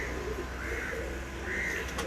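Pigeons coo softly on a rooftop loft, low gentle calls repeating against a steady background hum.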